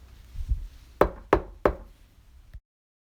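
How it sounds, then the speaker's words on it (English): Three sharp knocks on a wooden house door come in a quick, even sequence, each one crisp and close. Softer thuds come just before them and a final lighter tap follows. "he knocked on the door."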